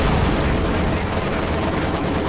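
Dense, continuous gunfire in the World War II strategy game Company of Heroes 2, with Panzer IV tanks firing on infantry and a Maxim machine gun, forming a loud, unbroken rattle of shots and blasts with no talking.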